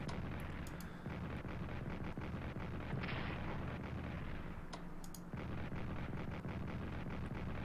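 Continuous artillery fire from the World War I strategy game Strategic Command rumbles as a dense, steady wash of low booms and crackling impacts, with no voices over it.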